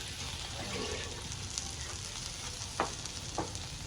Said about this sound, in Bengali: মাছগুলো ভাজবো এখন